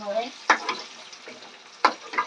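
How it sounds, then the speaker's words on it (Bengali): Salted, turmeric-coated potatoes sizzle in a frying pan while a spatula scrapes and stirs in two or three sharp, close bursts over a steady hiss. "আলুগুলো একদম লাল লাল করে ভাজা হবে"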